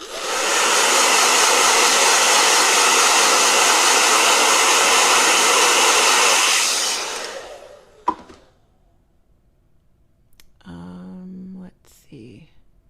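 A handheld blow dryer runs loud and steady for about seven seconds, then cuts off, leaving a clatter and quieter rustling with a brief hum near the end.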